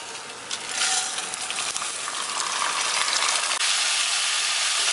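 Drained basmati rice goes into hot oil for Kerala-style prawn biryani, setting off a loud, broad hissing sizzle that builds and holds steady at close range, with no talking.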